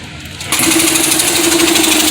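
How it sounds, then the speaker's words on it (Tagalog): A Vespa air compressor that runs but will not build pressure: after a quiet start it kicks on abruptly into a loud, close, steady mechanical hum with a fast rattling pulse, with nobody speaking. "Mapapansin nyo, umaandar siya pero ayaw kumarga."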